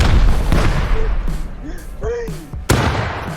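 Loud Rust game combat with booming grenade blasts and sharp gunfire cracks, a dense noisy mix with a sudden heavy hit near the end.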